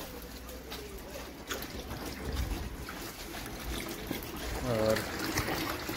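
Water splashing and trickling as clothes are washed by hand outdoors. The sloshing is soft and continuous, and someone talks over it.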